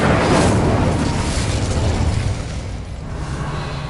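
A fiery Incendio spell blast in Hogwarts Legacy erupts as a loud, rumbling whoosh that starts strong, then fades into a softer crackling roar.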